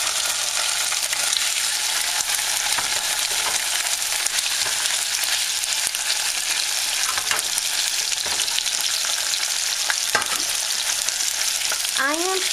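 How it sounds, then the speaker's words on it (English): Salmon fillets sear in hot oil in a pan over medium-high heat, a steady loud crackling sizzle that runs unbroken throughout, with a few soft clinks and scrapes of the pan near the end and no talking. "you want to have your pan and oil warmed up, and when that is ready, which this looks like it is, you put in the salmon"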